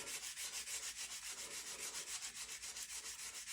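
Steady rhythmic rasping of sandpaper rubbing back and forth on a wooden axe handle, quiet and close, each stroke evenly spaced.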